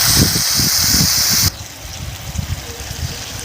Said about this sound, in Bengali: কষার জন্য জল দিয়ে দেবো অল্প।